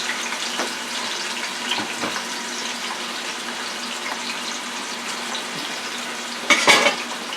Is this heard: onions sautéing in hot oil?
yes